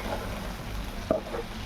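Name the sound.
sautéing chillies with peanut powder in oil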